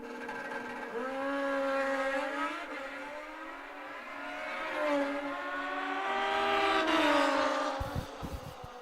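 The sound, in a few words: drag racing motorcycles accelerating down the track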